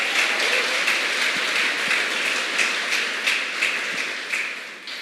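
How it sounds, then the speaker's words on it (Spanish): Applause from a church congregation fills the room, a dense patter of many hands clapping continuously and fading slightly toward the end. "Dale un aplauso al Señor."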